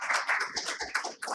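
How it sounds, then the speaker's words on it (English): An audience at a green hydrogen conference claps briefly to welcome a speaker to the stage, a short burst of scattered hand claps at moderate level. "Please join me in welcoming Mr. Pavan to the stage with a round of applause."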